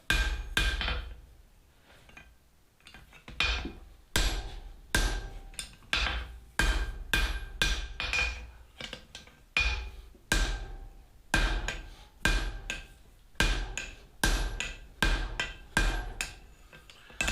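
A hammer strikes hot 5/8-inch square steel bar on an anvil, upsetting one end for an S7 hot punch handle: sharp ringing blows in irregular clusters of two to four, loud and close, with short pauses between bursts.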